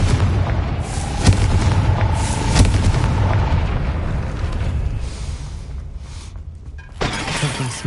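The Confringo fire spell explodes in the video game Hogwarts Legacy: loud booming, crackling blasts and shattering impacts close by, followed by a fading rumble and a short burst near the end.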